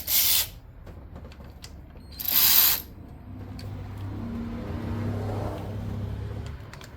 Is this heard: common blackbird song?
no